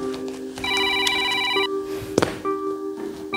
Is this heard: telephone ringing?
yes